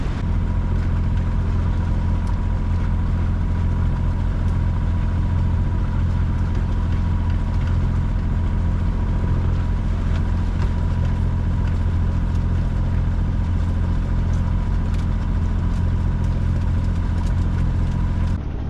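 A sailboat's inboard engine runs steadily while motorsailing on the Solent, a loud continuous low drone with a constant throb that holds unchanged throughout, with no voices.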